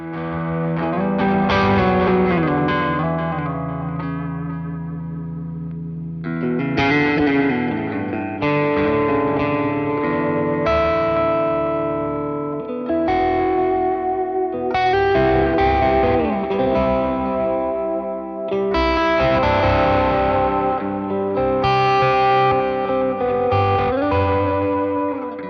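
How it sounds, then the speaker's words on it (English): An electric guitar plays chords and melodic lines through the tape echo effect of a NUX MG 50 Li, with distorted tone and repeats trailing after phrases, loud and sustained with brief pauses. "It's a tape echo, so I'm guessing it's kind of based on just a classic tape echo machine."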